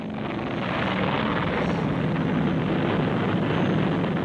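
The XLR-11 rocket engine of the Bell X-1 rocket aircraft gives a loud, continuous broadband roar that swells slightly and then holds steady throughout.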